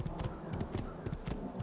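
Hooves of a horse galloping in the Assassin's Creed 2 video game, a quick steady clip-clop rhythm, moderately close and fairly quiet, with no talk over it.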